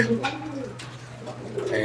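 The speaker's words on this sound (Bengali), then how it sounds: "কবুতরের এটা নর আর এই দেখেন নরের ডাক" A male pigeon coos close by in a short series of soft, low, rolling calls over a faint steady hum.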